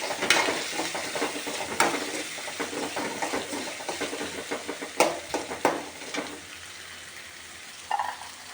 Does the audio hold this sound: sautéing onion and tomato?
yes